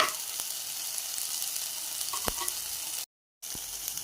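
Steady sizzling of onions lightly sautéing in a pan for potato kurma, close and even, with a couple of light clinks and a brief cut to silence near the end.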